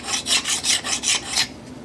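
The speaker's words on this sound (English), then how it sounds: "So take a file and remove the burr." A hand file scrapes across metal to take the burr off a freshly drilled hole in a model steam engine base, giving six or seven quick rhythmic rasping strokes, close and clear, with no talking.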